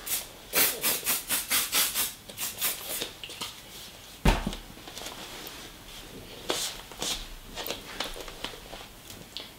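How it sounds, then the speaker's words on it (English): Hairspray sprays onto hair during a clip-in hair extension styling session, a quick run of close, hissing spritzes in rapid rhythm followed by a few more scattered bursts, with no talking. "Just spritz of hairspray."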